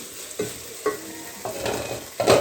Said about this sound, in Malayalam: ഇത് നന്നായി ഇളക്കാം സവാള ഇതൊക്കെ നന്നായി വഴക്കി വന്നിട്ടുണ്ട്